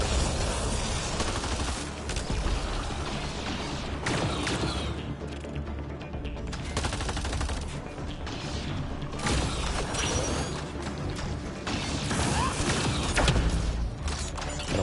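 Continuous gunfire in the sci-fi shooter Mass Effect Andromeda: dense, rattling volleys and mechanical clanks in a busy firefight, steady and loud throughout with no voices standing out.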